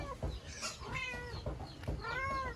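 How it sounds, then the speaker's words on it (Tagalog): A locked-up cat meows repeatedly, several plaintive cries in a row from close by, with some faint background noise. "Pusa nakakulong."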